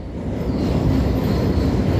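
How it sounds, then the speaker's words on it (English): A Fleetwood-line train rumbles across a railway bridge overhead, a steady, loud, continuous low roar of wheels and carriages that holds for the whole two seconds with no talk. "Fleetwood train going over the top."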